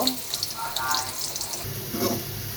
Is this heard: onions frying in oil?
yes